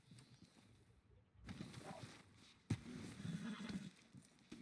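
A horse in a video game whinnies, followed by a sharp thump and shuffling hoof sounds, moderately loud against a quiet background.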